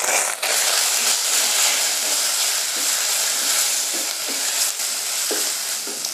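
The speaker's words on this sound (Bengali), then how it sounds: "আমার মশলাটা ভাজা হয়ে গেছে" Spices with ginger paste and turmeric fry loudly in a pan, a dense, continuous sizzle and hiss broken by faint stirring clinks.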